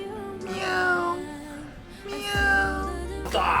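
A cat meows several times at close range in a home, with drawn-out tonal calls that rise and fall, separated by short pauses.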